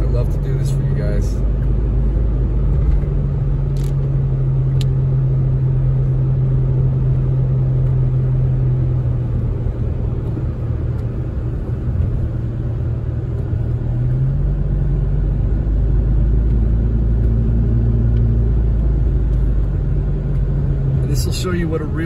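Steady low road rumble of a car cruising around Big Bear Lake in rainy weather, continuous and fairly loud throughout, with a constant engine drone and no clear speech.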